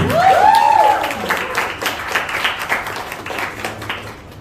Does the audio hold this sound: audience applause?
yes